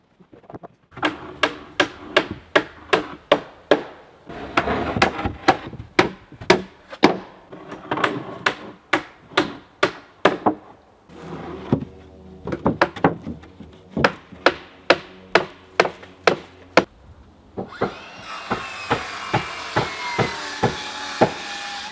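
Hammering wooden deck boards onto the deck of a small 64 sq ft micro house on stilts: dozens of sharp, loud nail strikes in quick rhythmic bursts, with short pauses between runs, close by and with no talking.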